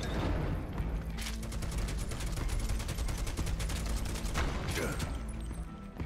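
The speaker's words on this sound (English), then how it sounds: "Shoot a rock." Rapid gunfire in Final Fantasy VII Rebirth aimed at a rock, a fast, evenly spaced string of sharp shots rattling for several seconds over game background, followed by a brief pause and a final burst.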